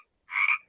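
A single short frog croak, a brief bright ribbit-like burst that sounds close and clear after a moment of silence.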